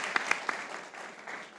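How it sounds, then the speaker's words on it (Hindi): A small group applauds India's Asia Cup cricket win over Pakistan: a few sharp hand claps at the start, then softer scattered clapping, brief and fairly faint. "बता दो भाई तालियां, बहुत बेहतरीन परफॉर्मेंस।"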